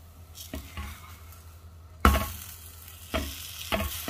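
Spinach dosa cooking on a pan, a soft steady sizzle broken by a few sharp scrapes and clinks of a utensil against the pan, fairly quiet and without voices.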